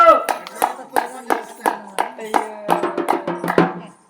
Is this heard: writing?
no